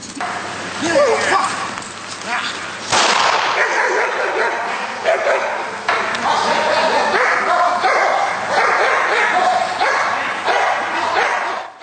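Several service dogs at a working-dog competition bark and yip loudly in rapid, overlapping bursts, with whimpering between and voices mixed into the commotion.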